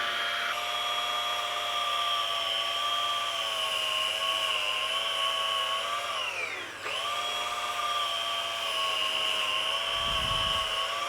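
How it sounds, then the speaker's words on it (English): An electric doner kebab slicer whines loudly and continuously as it cuts doner meat, its motor pitch dipping briefly midway under load before recovering. "Now if you have one of these slicers, you can slice it as thin as you like."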